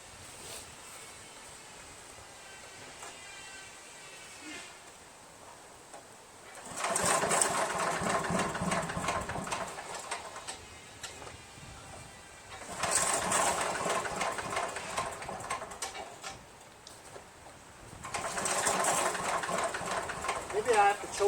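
A Craftsman chipper shredder's small engine fires up and runs after a cylinder head removal and valve lapping job, giving three separate bursts of loud, rough rattling engine noise with quieter pauses between them.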